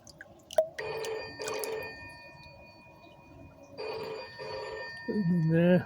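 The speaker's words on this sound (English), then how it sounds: "Got a phone call." A telephone ringing near an outdoor garden pond where medaka rice fish are being scooped out, heard as two short bursts of rings, a pause, then two more, ending with a voice starting up.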